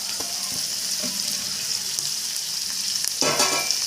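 Green chillies and tomatoes sauté in hot oil, giving a steady close frying hiss with light clicks from stirring, then a louder burst of sizzle near the end as the pan flares; no one speaks.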